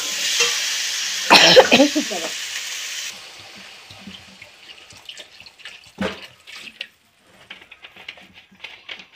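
Water poured into a pan of sautéed vegetables for a Bengali shrimp chorchori, a loud hissing splash and sizzle near the start that settles into quiet sizzling with scattered clinks of a spoon.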